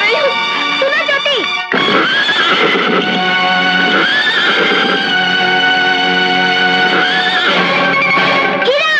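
A horse in a Bollywood film scene neighs loudly with long, wavering whinnies that fill the scene, heard under dramatic music, with speech mixed in.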